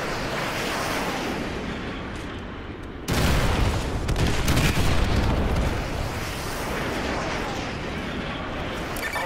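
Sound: artillery strike from video game Call of Duty Modern Warfare 2

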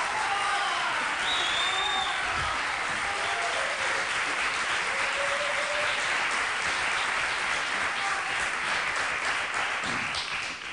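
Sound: studio audience applause

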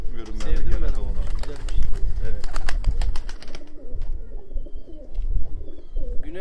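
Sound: Abdal Arab tumbler pigeons cooing

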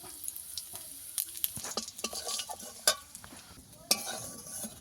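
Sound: dried red chillies and cumin frying in oil

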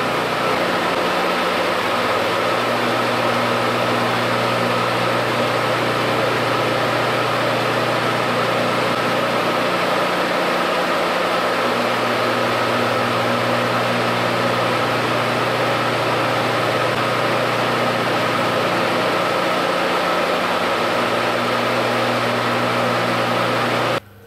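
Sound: electric motor running on a phase converter

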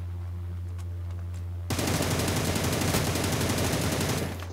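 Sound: gunfire in PUBG video game

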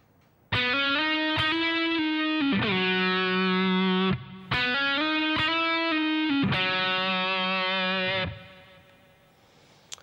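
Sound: distorted electric guitar playing a solo phrase

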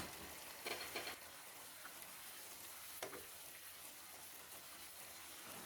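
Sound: stir-frying chicken with roasted chili paste in a pan

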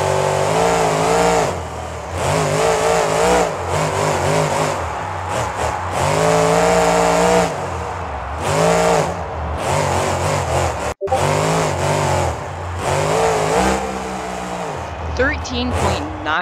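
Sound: monster truck starting off and accelerating

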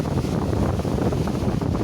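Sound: strong wind

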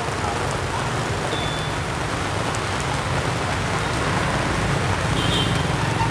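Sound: sudden rain falling on a Saigon street with traffic

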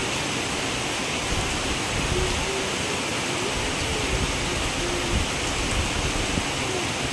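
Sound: rain falling

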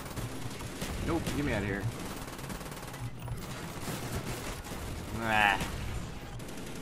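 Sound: pistol gunfire in video game Call of Duty: Black Ops

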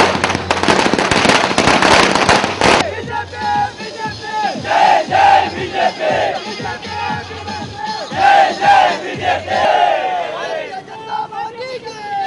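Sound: firecrackers bursting amid cheering crowd

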